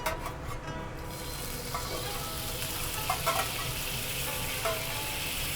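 Foie gras frying in a pan with teriyaki sauce gives a dense, steady sizzle with a few sharp spits and pops, heard up close.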